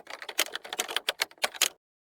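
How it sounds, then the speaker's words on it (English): Rapid, irregular clacks as a Gmail login is typed on a computer keyboard, a dozen or so close keystrokes in a quick burst before stopping into silence. "Once you are done with typing, then hit login"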